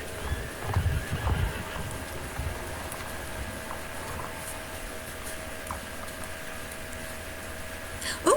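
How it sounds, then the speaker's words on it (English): Horse hooves clip-clop at a steady walking rhythm with whinnies and neighs while riding a horse in a video game, the sounds fairly clear over a constant low background hum, with no talking. "here I am riding a horse that already has max experience"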